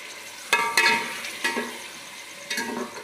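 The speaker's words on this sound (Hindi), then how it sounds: "गोश्त को थोड़ा सा हम भून लेंगे।" Meat browning in a pan with already-fried onion, green chili and garlic, giving a steady sizzle broken by several sharp stirring scrapes and bursts, close and moderately loud.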